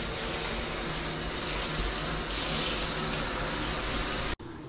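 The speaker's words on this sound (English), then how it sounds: "Got the shower on and we're testing it." A shower runs hard onto a frameless glass door in a bathroom, a dense, steady hiss of spraying and splashing water close by that keeps going without a break and then cuts off abruptly at the very end.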